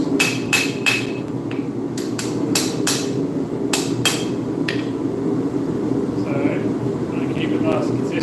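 Hammer blows ring out against a steel shaft being flattened into shape, a quick run of sharp metallic strikes followed by a few spaced hits, over a steady hum of background machinery.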